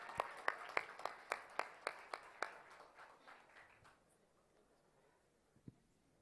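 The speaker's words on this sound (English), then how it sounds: "A big round of applause." Small audience at a tech conference talk in Bangalore clapping for a speaker, about a dozen distinct claps in a steady rhythm that fade out, followed by near-silence and one last faint clap.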